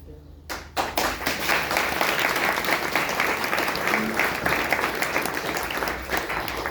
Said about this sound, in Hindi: एक भाई की ताली और रुक रही।